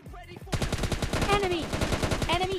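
A long rapid burst of automatic gunfire in PUBG Mobile, loud and close, starting abruptly and continuing as an even stutter, with a short tonal game sound over it and someone talking faintly before the shots.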